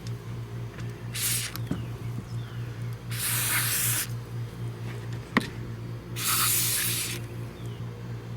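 Anti-corrosion spray aimed at a Sea-Doo watercraft switch: two short hissing bursts about two seconds apart, close and clear over a low steady hum, with small clicks and a sharp tap between them.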